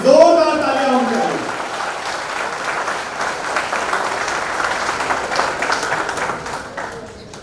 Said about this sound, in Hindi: हवा में जोरदार तालियां होनी चाहिए